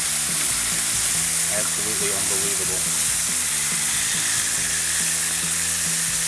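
Thick-cut bacon sizzles and crackles loudly and continuously on a Blackstone griddle, with a brief spoken remark over the frying.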